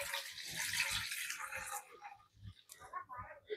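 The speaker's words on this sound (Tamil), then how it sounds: "தேங்காய் அரைச்சி பால் எடுத்து வச்சுருக்கோம்," Ground coconut milk pours into a kadai for halwa, a quiet liquid splash and gurgle for about two seconds that then trickles off into softer dribbles.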